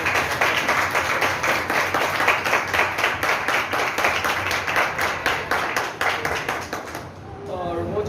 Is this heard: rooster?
no